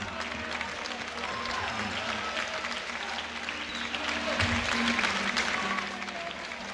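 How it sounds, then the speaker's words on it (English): A bodybuilding contest crowd at the 1980 Mr. Universe middleweight posedown cheers and claps steadily for several seconds, with voices and whoops mixed into broad applause that swells slightly toward the end. "let's hear you cheer on your favorite"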